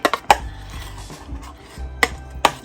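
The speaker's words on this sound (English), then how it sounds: "I try to mash this down so I can try to get the lumps out" A utensil knocks and scrapes against a bowl while cornbread batter is mashed to break up lumps, giving a few sharp clinks spaced among softer thuds, close and clear with no talking.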